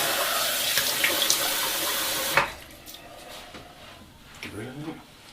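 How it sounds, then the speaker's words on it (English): Cool tap water runs from a faucet into a sink to rinse the face after a shave, a steady hiss that stops abruptly, followed by quieter splashing and brief rustling. "And then I just get some cool water."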